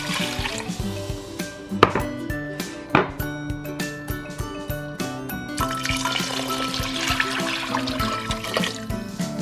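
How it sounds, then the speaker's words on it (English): Water is poured into a cooking pot for arroz caldo, a Filipino rice porridge. It pours and splashes steadily for several seconds, with clinks of the pot near the start. "next I'm gonna add in my water."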